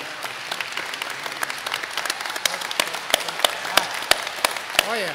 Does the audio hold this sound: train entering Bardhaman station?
no